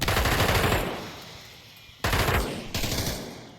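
Automatic gunfire rattles in a VR shooter video game match. A loud burst is followed by a fading tail, then two more sharp bursts close together.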